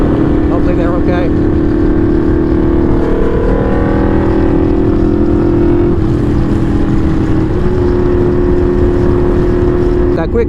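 A Yamaha V-Max motorcycle with a loud aftermarket exhaust roars at close range, a constant heavy engine drone that climbs and dips in pitch as it cruises on a freeway.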